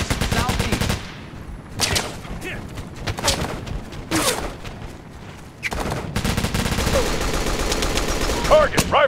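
Rapid bursts of rifle gunfire from the video game Operation Flashpoint: Dragon Rising, loud and close, several volleys broken by short pauses, with brief radio-style voice callouts in between.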